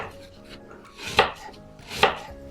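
Pumpkin chopped into small cubes on a cutting board: two sharp, close knife strikes about a second apart over a faint background.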